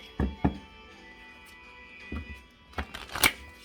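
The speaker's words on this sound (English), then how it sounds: "As I'm shuffling through my cards" Tarot cards being shuffled in a few short, crisp bursts with quiet pauses between them, close by and fairly soft.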